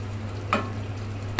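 Vegetables sauté in a pan with a soft, steady sizzle. A single brief stirring scrape cuts through the middle, and there is no talking.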